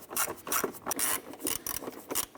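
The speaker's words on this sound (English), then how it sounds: "Once we get all 4 of these screws started, I'm going to go ahead and snug those down." Screws being snugged down into the air box lid of a 2009-2015 Honda Pilot, heard as close, rhythmic rasping and ratcheting strokes in quick repeated bursts, with no talking.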